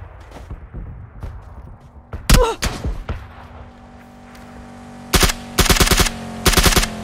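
Gunfire in the battle royale game PUBG: a scattered burst of shots early, then several loud rapid automatic volleys in quick succession, close and sharp, with faint voice chatter in the quieter gaps.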